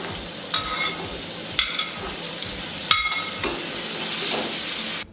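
Karonda berries hit a hot pan of spices with turmeric and Kashmiri red chilli, sizzling steadily while a spoon scrapes and stirs in several sharp bursts, close and fairly loud with no voices.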